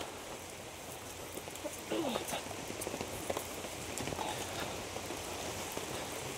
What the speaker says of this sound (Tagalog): kusog yung ulan